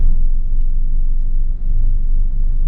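A Maruti XL6 engine on a test drive, a steady low rumbling drone from inside the cabin with a brief dip as the gear changes up to fourth.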